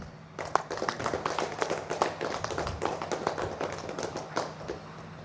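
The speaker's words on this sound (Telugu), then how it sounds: "చివరిగా గట్టిగా చప్పట్లు కొట్టండి." An audience at a Sri Chakra ceremony claps loudly and steadily, a dense run of hand claps that lasts nearly the whole stretch.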